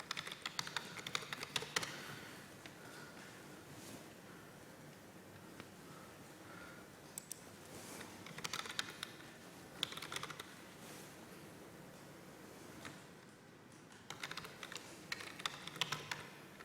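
Typing on a computer keyboard, with soft irregular key taps and small bursts of clicking over a faint room hum. The taps are quiet and fairly close.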